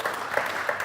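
Short burst of audience applause at a brewery industry talk event, a quiet, dense patter of clapping with a few louder claps poking through.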